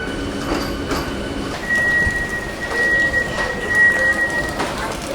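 Low, steady hum of an AC local train idling at platform 8 of Sealdah station, with a faint high tone and occasional soft clatter; no one speaks.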